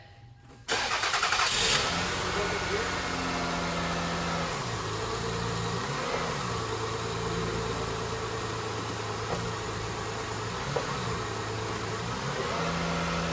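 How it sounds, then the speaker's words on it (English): A car engine cranks after a short quiet start, catches, and settles into a steady mid-pitched idle that stays close and continuous to the end with faint variations. "Motor start."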